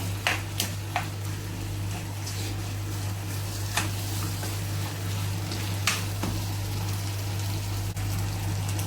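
Chicken roast frying over a high flame in a pan, a steady close sizzle broken by occasional sharp clinks and scrapes as it is stirred, no voices.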